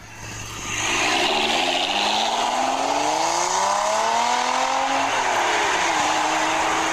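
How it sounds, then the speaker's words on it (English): A six-cylinder Lotus Evora engine rises in a smooth climbing drone as the car accelerates. The pitch sweeps upward through gear pulls, moderately loud and steady, with no voices. "That's an Evora. It's a 6-cylinder."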